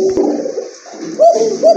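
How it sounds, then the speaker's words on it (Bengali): A male pigeon in a pair offered for sale coos in a few low, throaty phrases, the last two swelling louder near the end against a quiet background. "ডাকতেছে যে এটা হচ্ছে নর"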